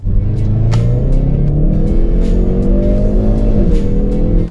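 Hyundai i30N hot hatch with 280 horsepower accelerating hard, a loud close engine roar climbing in pitch through revs with brief crackles, alone without talk.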